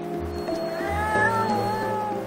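A cat meows several times in a rural Korean mountain-village home, the drawn-out cries close and clear over a low steady hum in the background.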